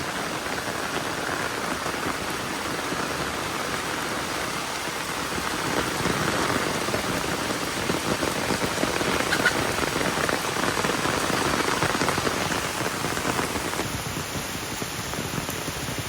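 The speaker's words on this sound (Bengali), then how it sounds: "জোরে বৃষ্টি হচ্ছে" Steady, dense rainfall pours down continuously, a heavy hiss of drops hitting surfaces with no voices, and a faint high tone appearing near the end.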